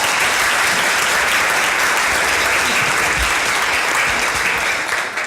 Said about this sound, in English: So give yourself a round of applause too.